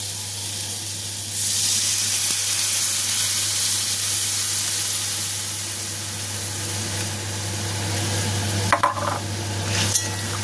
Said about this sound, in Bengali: এবার এটাকে একটু ভাজা করে নেব